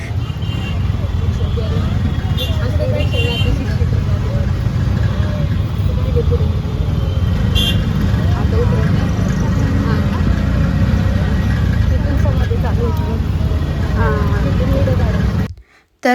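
An auto rickshaw's engine hums in a loud, steady drone from inside the cab, with faint muffled voices under the motor noise until it cuts off abruptly at the end.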